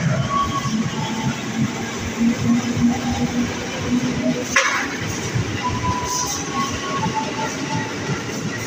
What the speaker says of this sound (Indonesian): Tujuan Angke baru saja meninggalkan peron 1.